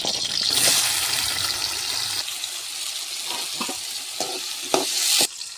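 Sliced bitter gourd fries in hot oil in a pot over a wood-fired stove, hissing and sizzling loudly while a spoon stirs with scraping, clattering knocks near the end.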